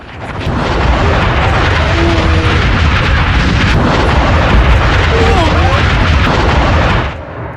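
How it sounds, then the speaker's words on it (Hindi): A loud, sustained roar and rumble from a large missile-strike explosion, booming continuously for several seconds before cutting off abruptly. "जिसके बाद बड़ा धमाका आप देख रहे हैं"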